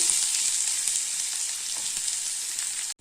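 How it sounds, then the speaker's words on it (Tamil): Onions fry in a pan after spluttered mustard seeds while cooking ragi adai, a steady close hissing sizzle that cuts off abruptly near the end, with no talk. "இப்போ நம்ம வெங்காயம் போட்டுக்கலாம்."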